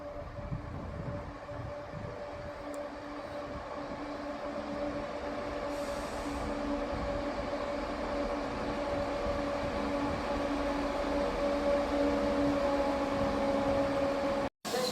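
A ScotRail train pulls out of Edinburgh Gateway station, a continuous rumbling roll with steady tonal motor whine, loud and close throughout the passage.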